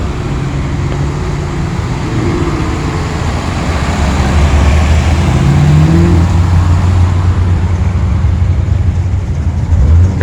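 A Dodge Challenger driving past at a car show, its engine giving a loud, steady low rumble that swells slightly as it nears, with no voices.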